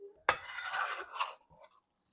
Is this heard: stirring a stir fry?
yes